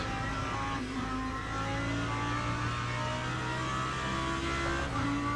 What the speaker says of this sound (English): The Lambo doesn't sound too bad.